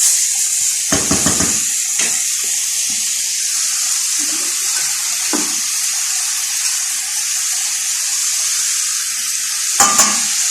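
Ampalaya (bitter gourd) mixture sizzles steadily in a hot pan as a utensil stirs and scrapes it, with a few louder clanks of the spoon against the pan and a constant frying hiss throughout.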